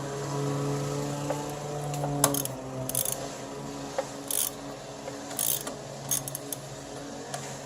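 Hand ratchet clicking in short bursts while loosening 18 mm engine mount bolts on a 2003 Pontiac Grand Am, with sharp metallic pawl clicks and quieter shop noise between strokes.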